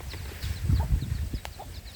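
Hen clucking with her chicks at a backyard poultry yard, soft repeated clucks close by with faint high chick peeps scattered over them.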